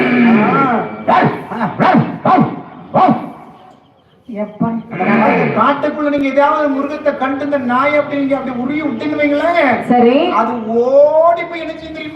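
A villupattu folk performer imitates the barking of a Rajapalayam dog, giving a few sharp, yelping barks in quick succession before moving into longer sung or spoken vocal sounds, loud and close.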